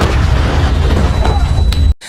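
Explosions and gunfire in an action film's sudden attack on Army Rangers, a dense continuous barrage of booms and shots, loud and close, cutting off abruptly near the end.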